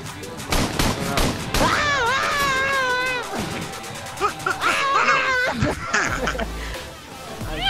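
Call of Duty Modern Warfare Remastered gameplay: rapid bursts of gunfire crackle in quick volleys under excited, shouting voices and a sung or wailing tone, busy and loud throughout.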